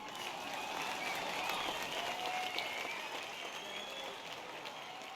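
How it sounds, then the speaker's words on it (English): A crowd applauds steadily throughout a Hall of Fame speech in NBA 2K23, a dense wash of clapping at moderate level that holds without a break. "So let's hear a round of applause for Mila"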